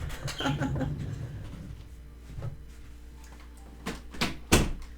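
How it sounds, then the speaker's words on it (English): Shuffling and movement lead into a few sharp knocks as a door is pushed shut indoors, with the loudest thud near the end. No one speaks. "I'm just going to go shut the door."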